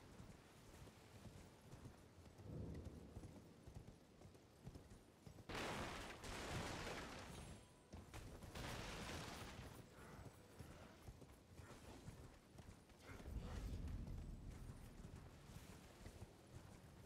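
Horse hooves clip-clop in Elden Ring, a steady galloping rhythm on the ground with bursts of louder rushing noise, moderately near and without talk.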